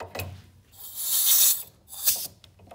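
An air hose fitting clicks and hisses as it is connected to a gas booster pump: short mechanical snaps followed by bursts of rushing air, close and fairly loud.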